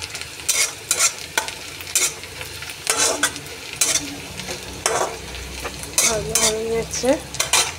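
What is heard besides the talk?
onions frying and stirred in a pan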